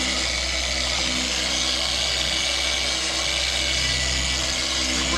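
A polishing machine working on the paint of a 1979 Alfa Romeo Spider, a steady, close electric whir with a low hum beneath it, running without a break and with no voices.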